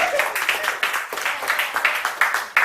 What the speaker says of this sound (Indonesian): Boleh saya minta tepuk tangannya untuk saya.